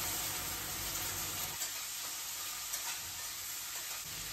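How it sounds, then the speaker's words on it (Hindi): Onion dropped into hot oil in a pan with spice masala, giving a loud, dense sizzle from the start that calms slightly after a moment, with no voices. "अब इसमें डाल दे रही हूँ प्याज।"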